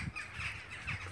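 Rooks caw faintly overhead as they fly over a house, harsh calls rising a few times above steady outdoor background noise.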